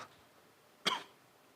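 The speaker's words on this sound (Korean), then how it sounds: "자꾸 저 앞에 기침이 나오는데" A single short cough from someone in a smoky church setting, one sharp burst standing alone against quiet room tone.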